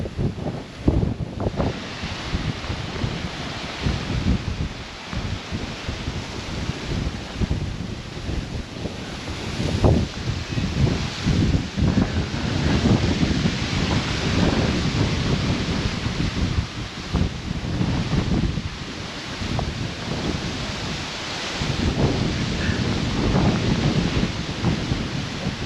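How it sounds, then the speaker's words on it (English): A storm in Key West, with heavy wind buffeting the microphone, rumbling surf and waves, and steady rain, loud and continuous for nearly half a minute with no talk. "Starting to rain pretty hard."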